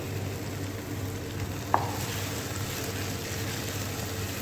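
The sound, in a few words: green paste added to frying tomatoes in pan, sizzling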